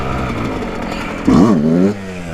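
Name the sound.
Yamaha YZ125 motorcycle revving during wheelie practice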